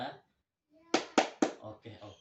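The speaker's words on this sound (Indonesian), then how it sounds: "kita kasih tepuk oke dulu untuk Ibu Ajeng" A group claps out the rhythmic 'tepuk oke' routine at an Indonesian community session: three sharp claps in quick succession, then three softer ones, loud and close after a brief spoken cue.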